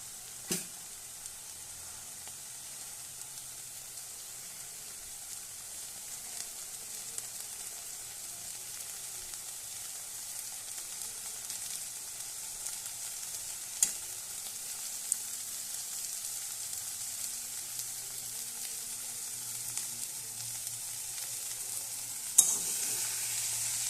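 Leafy greens with sesame and two slit green chillies fry in a pan over a low-to-medium flame, a soft, steady sizzle broken by occasional light scrapes and clicks of stirring, close and unaccompanied by talk.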